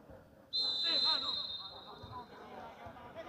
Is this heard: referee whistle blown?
yes